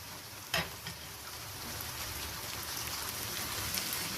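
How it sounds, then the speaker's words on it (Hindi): Chicken hits a pan of golden fried onions with a sharp splash, then a constant loud sizzle and crackle continues close up without talk. "तो अब इसके अंदर मैं चिकन डालने लगी हूँ। ये इसके अंदर चिकन डाल दिया।"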